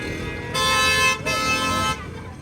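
Car horns honk in heavy road traffic at night, with two long, loud, close blasts, the second following a brief gap, over a steady rumble of engines.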